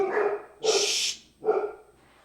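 An old, senile dog barks three times close by, hoarse and uneven barks separated by short pauses, the middle one sharper and brighter.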